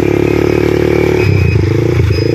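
A ridden motorcycle engine revs loudly and close, a steady buzzing drone that shifts pitch partway through, with faint rattles and no talk.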